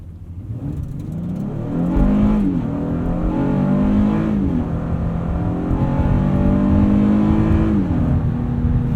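A 2019 Honda Passport Elite AWD accelerating hard from inside the cabin, its engine climbing through two long rising pulls as the 9-speed automatic shifts, with the VTEC crossover coming in near the top of the rev range.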